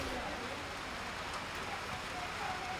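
Steady heavy rain, a dense hiss with no gaps that stays fairly faint and distant, from a rainy spell in a remote area with an airstrip.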